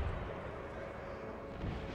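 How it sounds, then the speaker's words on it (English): Distant cannon fire from an Imperial Destroyer battle, a low rumbling boom spread under a dense, continuous din of the battlefield with no speech. "now the cannon started opening fire"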